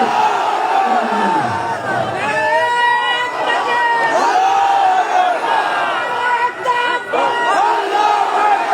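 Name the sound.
crowd answering a takbir call at a religious gathering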